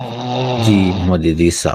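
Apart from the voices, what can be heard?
caller snoring on a live stream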